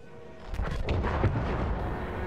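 Gunfire in the World War I shooter Battlefield 1, a broad rumbling burst of shots and booming reports with a dense low-end roar, sustained at a steady loud level across a couple of seconds with no talk.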